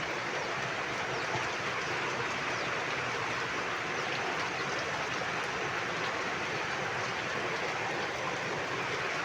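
Rain falls steadily outdoors in the Philippines, a dense even hiss that holds at a constant level for the whole stretch with no clear drops or gaps and no talk.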